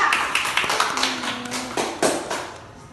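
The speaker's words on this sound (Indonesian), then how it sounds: "Ayo tepuk tangannya Nana." A small classroom audience clapping: a short, uneven burst of claps and taps that rises and dies away within a few seconds, close and fairly loud, with no speech.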